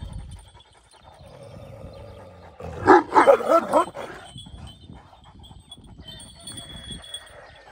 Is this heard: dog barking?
yes